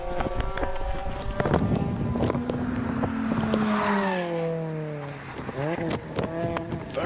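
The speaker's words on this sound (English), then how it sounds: "Steve Clay in the MX5 heads towards Farmhouse" A Mazda MX5 race car on a hillclimb course at Harewood, engine note rising and falling through gears as it passes, close and loud, with wind noise and a commentator speaking over it.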